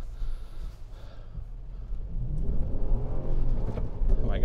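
A 2023 Lexus GX 460 engine idles and rumbles at low revs while crawling slowly off-road through snow and mud, with a steady close drone that builds slightly toward the end.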